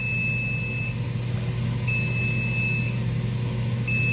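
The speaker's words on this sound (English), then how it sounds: "that is the bell saying that this should be done. I put the timer on for like 5 minutes." A kitchen timer set while making rice pudding sounds three evenly spaced, sustained high electronic beeps over a constant low humming background, with no talking.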